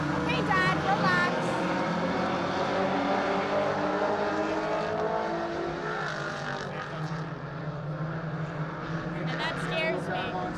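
Race cars circle a track in a continuous engine drone that swells and fades as they pass, with a commentator talking over the noise.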